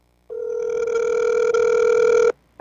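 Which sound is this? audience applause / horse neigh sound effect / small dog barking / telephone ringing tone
telephone ringing tone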